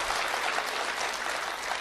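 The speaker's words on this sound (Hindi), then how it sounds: "तालियां आप लोग कमजोर बजा रहे हैं" A crowd at a Hindi comedy or poetry event claps steadily, with dense, even applause filling the space at moderate loudness and no voices on top.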